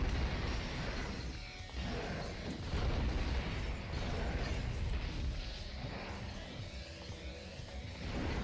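In Devil May Cry 2, a bomb thrown during Lucia's mission sets off booming, crashing blasts among dense game noise, loud and sustained with layered rumbles and bursts over several seconds, with no clear talking.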